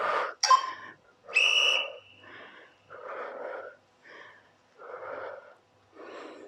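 A person exhales hard during a home HIIT workout without equipment, pushing out repeated forceful, breathy whooshes with wheezy, whistling edges, close and rhythmic with short pauses between, no talking.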